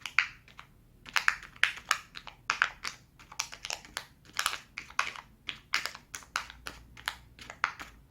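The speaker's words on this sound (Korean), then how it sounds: "이렇게 누르면 소리가 들려요." Colored paper origami pop-it toy being pressed repeatedly, giving a steady run of crisp, close paper clicks and crinkly pops in quick irregular rhythm, with no voices.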